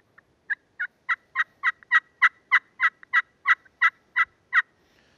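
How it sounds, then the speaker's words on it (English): A glass friction turkey call sounds a steady series of about fifteen sharp hen yelps, evenly paced and clear, with no other sound. "here's an example of a classic hen yelp that you're going to use when you're hunting turkeys"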